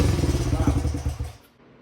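Gas engine sputtering and running with no exhaust gasket fitted, a close, loud, uneven chugging burst that dies away after about a second and a half, with no voices.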